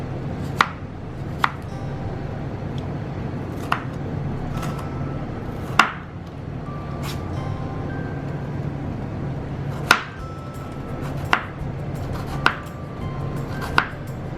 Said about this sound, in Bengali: এবারে একটি পেঁয়াজ আমি ছিলে নিয়েছি এখন এটাকে দুভাগ করে নিয়ে এভাবে খুব পাতলা করে কেটে নিচ্ছি